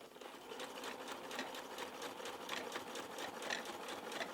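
A domestic sewing machine stitching a pocket seam on dungarees, a steady rapid mechanical whir and patter running continuously and close, with no talk over it.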